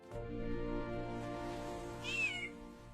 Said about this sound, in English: Cat! I love cats!